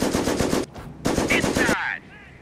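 Rapid machine gun bursts in the World War II strategy game Company of Heroes (Blitzkrieg mod, American forces): two loud, dense rattling volleys separated by a short pause, followed by a brief voice-like tone as the firing stops.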